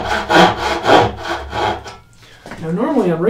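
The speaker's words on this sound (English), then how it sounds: "So I'm gonna grab my dovetail saw, and very carefully cut on that line" A dovetail saw cuts by hand into wood, with four or five even, rasping push strokes in a steady rhythm, then a pause and a few lighter, shorter strokes, close and clear.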